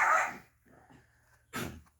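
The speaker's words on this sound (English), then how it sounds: "Dog's gone bananas there for half a second." A dog barks in an Australian backyard vegetable garden in autumn, one sharp burst at the start, a softer whimpering sound in the middle, then another short bark near the end, fairly close.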